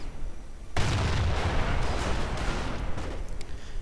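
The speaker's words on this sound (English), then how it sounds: "And there we go. Artillery going in." Artillery fire in a strategy video game: a sudden loud boom opens a dense, continuous rumble of explosions and blasts that carries on without pause, with no talk over it.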